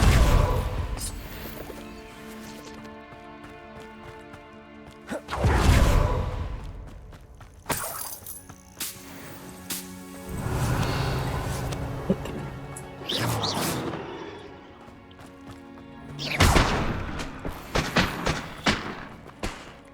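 Spells cast in the video game Hogwarts Legacy, with loud crashing blasts and thuds from explosions arriving in several bursts over game music, and a voice calling out over the effects.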